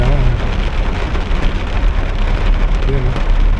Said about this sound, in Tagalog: Papunta tayo sa part-time ko, pero malakas ang ulan.